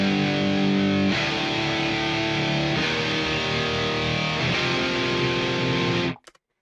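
Distorted electric guitar double-tracked by duplicating one take and nudging the copy about 15 milliseconds later, sustained chords ringing loud and dense with changes near 1 and 3 seconds before cutting off abruptly near the end.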